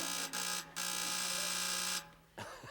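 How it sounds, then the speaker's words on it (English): A harsh, loud electronic quiz show buzzer blares in a steady tone, cutting out briefly twice before a final shorter blast, alone and close. "That's the rudest buzzer I've ever heard in my life."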